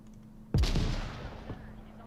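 Gunfire in the VR shooter Onward: one sudden, loud, close shot that booms and rings out, followed a second later by a softer second report over steady game ambience.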